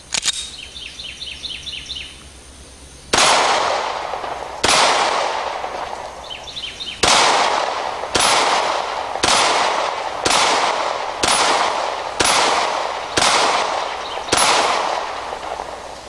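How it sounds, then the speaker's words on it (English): Handgun shots at a shooting range, 9mm or .38 Special, ring out close and loud, about ten evenly spaced reports each trailing off in echo, after a few seconds of quiet chirping. "maybe you want to shoot a 9mm or a 38 special"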